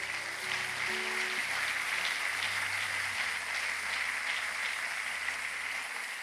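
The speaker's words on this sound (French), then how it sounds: "Est-ce qu'on peut encore acclamer cette parole?" A congregation applauds during a Sunday church service, a steady, even patter of many hands clapping at once, with low sustained organ or keyboard tones sounding beneath.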